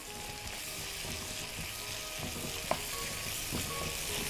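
Onions frying and sizzling in a pan while being stirred, a steady close hiss with a few light scrapes and clicks of the utensil.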